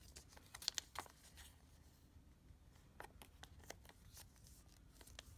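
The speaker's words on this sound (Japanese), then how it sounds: "3分割して折ります。" A sheet of paper is folded into thirds while making a card backing for a yarn Christmas ornament, with faint, close crinkles, sharp creasing snaps and light scrapes scattered irregularly across the quiet.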